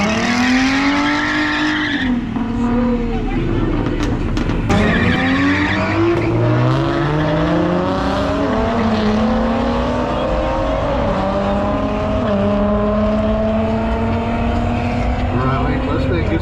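Drag race cars, a Mustang and a Charger, accelerate hard at a drag strip. Loud engine roars rise and shift in pitch through repeated gear changes, with tire squeal and voices over the steady, close noise.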